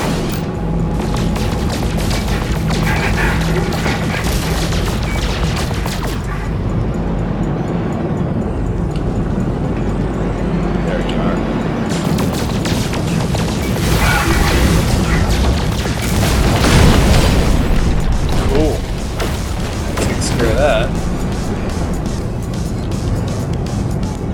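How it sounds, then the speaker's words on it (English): Missile explosions in the space game No Man's Sky, heard as continuous loud booming and rumbling blasts layered over dense engine-like noise throughout. "Let's see if I can hit you with my missiles."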